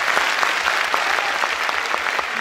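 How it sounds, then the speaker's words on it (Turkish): Loud, close crowd applause for the musicians at a music night in 2022, dense and steady clapping with some individual claps standing out, no talk. "lütfen kocaman bir alkış yapın"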